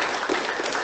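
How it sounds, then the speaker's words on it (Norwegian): Audience applause for a guest professor of medical ethics at a cancer-care event, a short steady burst of clapping filling the room at moderate volume. "Vi har applaus til han."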